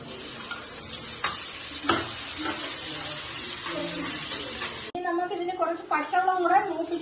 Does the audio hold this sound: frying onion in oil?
yes